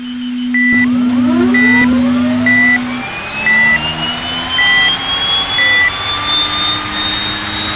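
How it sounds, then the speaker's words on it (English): Simulated GE90 jet engine of a Boeing 777-300ER spooling up in the RFS flight simulator, a loud rising whine with sweeping tones climbing in pitch, overlaid by repeated short electronic beeps. "Engine number 1, and the startup sound of G90 is epic"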